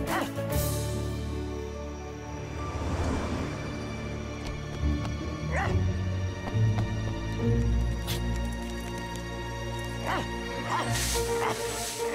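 A cartoon dog from Transformers: Rescue Bots barks and yips in short bursts scattered through busy background sound, with voices speaking around it.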